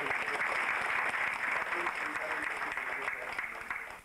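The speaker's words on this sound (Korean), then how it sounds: "우리 박수 한번 해주십시오." An audience at an academic conference breaks into applause, a dense, steady clatter of clapping hands that holds for several seconds and then starts to thin out at the end.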